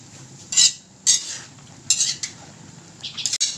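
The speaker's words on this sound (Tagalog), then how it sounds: "Yan, atin lang haluin" A utensil stirs crab cooking in coconut milk in a pot, a handful of separate scraping clinks against the metal rim spaced irregularly over a soft bubbling background.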